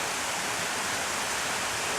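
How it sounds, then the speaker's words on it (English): A rainforest waterfall beside the Vermont trail on St Vincent gives a steady, full hiss and roar of falling water, constant and unbroken, with no voices. "water falls down"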